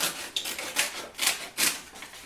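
Scissors snip through paper in a few short, crisp cuts, each a brief rasping stroke with small gaps between, close by and fairly quiet.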